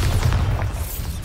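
A short, heavy boom from a Bombarda spell explosion in Hogwarts Legacy, a deep rumbling blast that holds steady for about a second and then begins to tail off.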